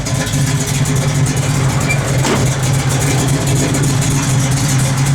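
A 1967 Chevrolet Chevelle SS with a big block engine idling close by, a steady deep rumble that holds evenly throughout with no pauses.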